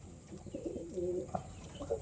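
Domestic pigeons coo softly in a few low, rolling calls, fairly close but quiet, with no talking over them.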